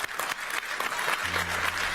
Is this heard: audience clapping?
yes